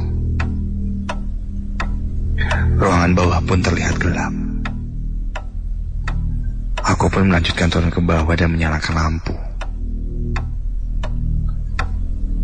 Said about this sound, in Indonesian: Hanya hening yang terdengar, juga detik jam dinding